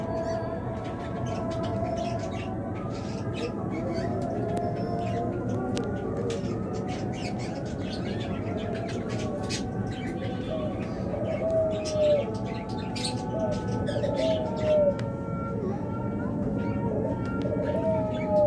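A pheasant, just let out of its cage, gives thin, high calls now and then, faint against a constant murky background of other birds and noise.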